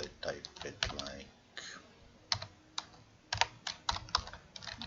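Typing on a computer keyboard, quick irregular clusters of key clicks at close range, with a few pauses and some faint background voice activity between bursts.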